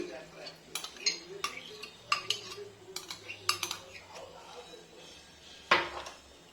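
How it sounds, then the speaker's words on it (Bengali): Yogurt being mixed into semolina batter in a bowl brings a spoon's irregular clinks and taps against the bowl, close and fairly quiet, with a louder knock near the end. "টক দইটা দিয়ে ভালো করে মিশিয়ে নিই সুজির সঙ্গে দইটা ভালো করে মিশিয়ে নিই"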